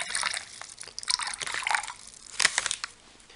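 Water poured into a US MRE powdered-drink pouch, a close, crinkly liquid trickle with splashes and pouch rustle over about three seconds, surging briefly near the end; no talking.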